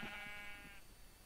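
Sheep bleating in Minecraft, a single harmonic bleat lasting most of a second, fairly close and clear over a quiet game background, then fading out.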